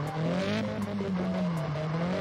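After a tire burst in CarX Drift Racing 3, a car drives on its bare wheel rim, throwing sparks and giving off a loud, continuous grinding whine with a wavering tone over engine noise.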